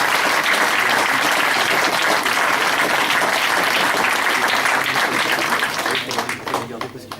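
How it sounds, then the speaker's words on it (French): Steady, dense audience applause honours Claude, a 61-year-old fifth-dan judoka, then thins and breaks into scattered individual claps near the end while a voice talks over it. "Et on peut l'applaudir."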